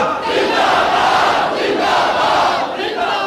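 A large crowd at a religious rally chants a slogan in unison, a loud, dense wall of massed voices rising and falling in waves throughout.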